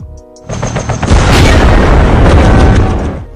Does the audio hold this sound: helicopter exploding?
yes